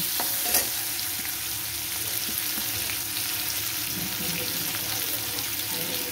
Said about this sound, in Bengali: শুটকি মাছটাকেও লাল লাল করে আমি ভেজে নেব।